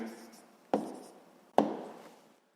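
Pen on paper as an answer is written down during a sixth-grade math exercise, with two sharp strokes or taps and faint scratching between them, close and quiet.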